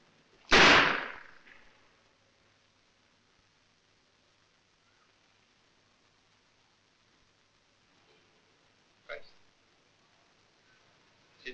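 Pistol gunshots in an Egyptian action film: one sharp, loud crack with a short decaying tail near the start, then a quieter second shot near the end, with faint background sound between them.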